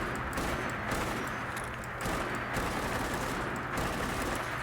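Unsuppressed rifle fire from a mod in Fallout 4 crackles in dense, rapid bursts, loud and close, with brief lulls between volleys.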